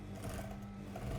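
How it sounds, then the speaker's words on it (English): An overlocker runs along the side seam edge of fabric, giving a fast, even mechanical whirr that stays close and steady. "the first thing I'm going to do is overlock the edge of the side seam that we just sewed"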